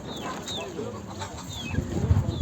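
Roosters and chickens at the Edirnekapı poultry market in Istanbul, with a few high, short calls and soft clucking over a close, steady market murmur and occasional low handling noises.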